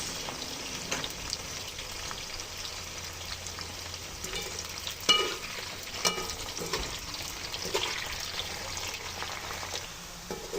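Sliced banana chips frying in hot oil with a splash of vinegar, a steady close bubbling sizzle with occasional stirring clinks and louder pops, no talking.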